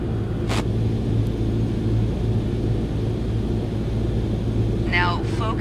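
Airplane engine in Microsoft Flight Simulator throttled back to idle, a steady low droning hum that holds loud and even throughout, with a brief hiss near the start and a faint chirp near the end.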